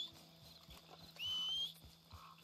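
Video-game horse, with soft clip-clop hoof steps pulsing evenly through the clip and a brief high whinny-like whistle in the middle, all over quiet ambient background.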